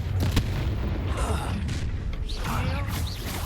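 Incendio spell blasts in Hogwarts Legacy, a few muffled booms and crackling bursts over continuous background rumble.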